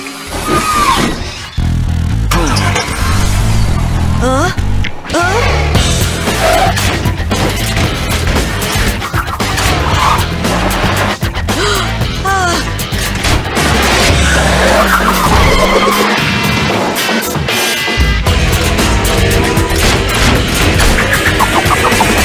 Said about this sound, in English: Now here's an awesome car.